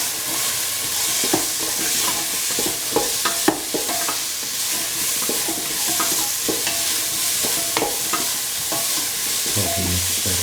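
Potatoes and tomato pieces sizzle loudly in a pan, up close, while a spoon stirs them with repeated scraping and clacking strokes over the steady frying hiss.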